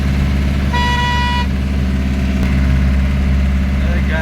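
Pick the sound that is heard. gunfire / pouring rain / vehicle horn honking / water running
vehicle horn honking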